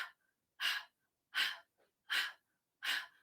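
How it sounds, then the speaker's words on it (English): Four forceful breaths are pushed out through the nose in a steady, evenly spaced rhythm during Kundalini yoga, each short exhale close and loud, with silence between and no talking. "it's a very powerful exhale. And as you exhale, you're pulling in the navel. So it's almost like a panting kind of thing going on."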